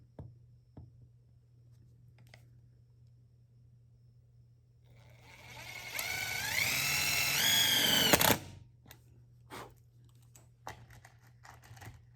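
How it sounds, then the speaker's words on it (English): A power drill whirs up, pre-drilling holes in a camper van, and runs for about two seconds with rising pitch, then stops; faint knocks and handling noises before and after. "So we're just going ahead and pre-drilling, basically,"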